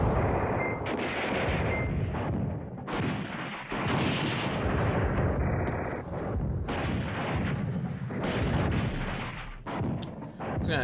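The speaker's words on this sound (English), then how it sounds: "Dropping a lot of artillery on them though." Artillery fire in the Command Ops 2 war game booms in repeated heavy bursts, overlapping blasts rolling one after another at a steady moderate volume with brief gaps between barrages.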